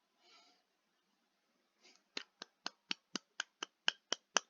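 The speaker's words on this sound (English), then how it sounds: "that's me clapping" About ten sharp, evenly spaced hand claps ring out alone and fairly quiet, after a soft breath, in an otherwise silent room.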